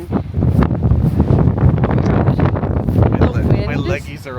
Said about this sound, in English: The wind here is insane.